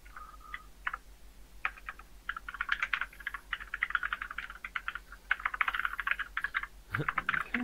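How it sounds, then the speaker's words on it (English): A computer keyboard being typed on at a busy, irregular pace, with quick clusters of clicking keystrokes running almost without pause, close and fairly clear over faint background hum. "It's a busy keyboard."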